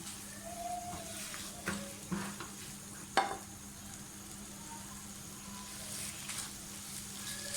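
Chicken pieces frying in a pan for restaurant-style chicken fried rice, a steady soft sizzle with occasional stirring scrapes and a sharp utensil clack near the middle, no talking.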